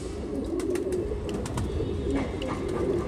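A female pigeon among high-flying Jaipur and Tonk breeds coos in low, rolling murmurs close by, with faint clicks and rustling of handling around it.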